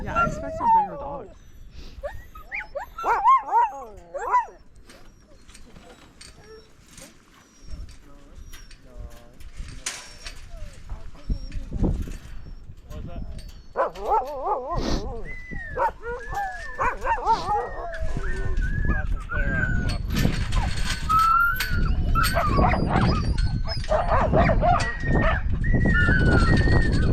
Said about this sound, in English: Yeah, I expect some bigger dogs.